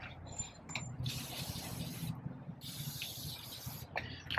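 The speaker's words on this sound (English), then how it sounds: "gonna get some WD-40" WD-40 lubricant aerosol spray hissing in short and long bursts, close up, with some mechanical clicking and handling noise between sprays, applied while removing a catalytic converter from a Honda Pilot.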